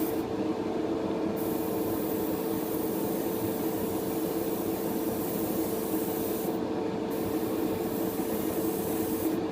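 An airbrush sprays Pledge floor care finish onto a Bandai 1/60 scale Strike Gundam model part, giving a steady, continuous hiss that runs the whole time with no talking.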